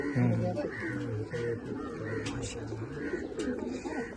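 Pigeons coo repeatedly in low, rolling phrases close by, with faint bird chirps and background noise around them.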